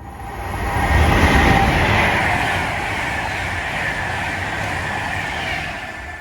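Class 350 passenger trains passing through Bletchley railway station, a loud rushing roar and wheel rumble that swells in the first two seconds and then holds as a steady passing drone.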